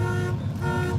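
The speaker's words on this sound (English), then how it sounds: "Uh-oh, we set up an alarm." A car alarm blares continuously at an outdoor classic car show and swap meet, loud and close with a steady repeating tone throughout.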